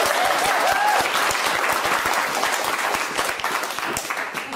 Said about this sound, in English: We could clap for everyone.